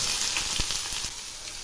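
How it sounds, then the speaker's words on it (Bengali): Chopped onion and green chili fry in a little oil with panch phoron, giving a continuous close hiss with a few soft pops. "এখন এই পেঁয়াজগুলো আমি হালকা করে ভেজে নেব।"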